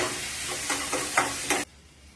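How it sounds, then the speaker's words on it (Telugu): Tomato pieces fry in a pan for Bombay-style gram flour chutney, a bright steady sizzle with a few stirring scrapes, close and loud, cutting off abruptly near the end. "అలాగే వేగిపోయి టమాటా ముక్కలు కూడా వేసేసాను"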